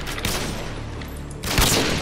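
Dense bursts of gunfire crackle through a noisy game mix, with a sharper volley near the end.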